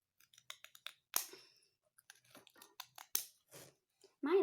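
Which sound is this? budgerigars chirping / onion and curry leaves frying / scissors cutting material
scissors cutting material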